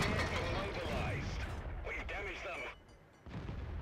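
Tank cannon fire in World of Tanks, a heavy booming shot with a rolling echo over constant engine rumble, followed by quieter game noise.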